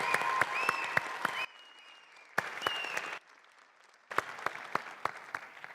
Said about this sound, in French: je veux bien qu'on applaudisse plus encore fort s'il vous plaît